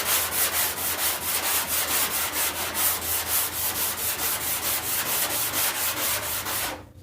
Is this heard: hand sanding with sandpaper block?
yes